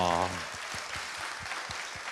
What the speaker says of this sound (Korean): 박수 한번 박수 주세요.